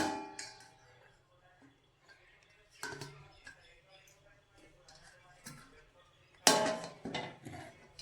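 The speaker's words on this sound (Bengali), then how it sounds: "এবার ঢেকে দিব।" Lid placed over a cooking pot of thinned drumstick and potato vegetable curry in a home kitchen: scattered soft clinks of metal and utensils, then one sharp clattering clang followed by a few lighter taps, amid quiet room noise.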